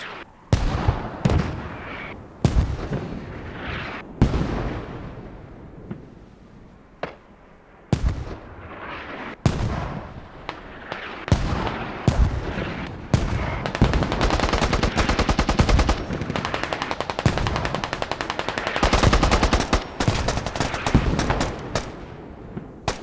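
Mortar impacts and rifle and machine-gun fire in the military video game Squad, a dense battle of sharp blasts and rapid bursts, some near and loud, others distant, with brief radio-style talk underneath.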